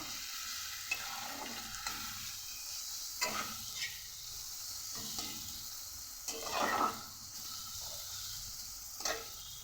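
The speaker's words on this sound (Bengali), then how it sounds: "ভালো করে রসুনটাকে ভেজে নেব" Garlic paste frying in oil with fried onions and slit green chilies gives a steady, moderate sizzle with occasional stirring scrapes and bursts of crackle throughout.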